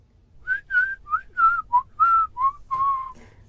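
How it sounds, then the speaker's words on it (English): A clear, close whistled melody of about eight short rising and falling notes, played alone against a quiet background. "Suddenly, out came a real whistle."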